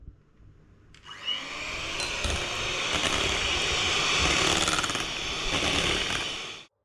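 An electric beater whirs into cake batter just after baking powder is added, starting abruptly and running as a loud, steady mechanical buzz for several seconds before cutting off.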